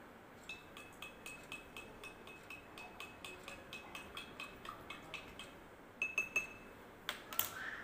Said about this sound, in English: Now I will mix it until everything is dissolved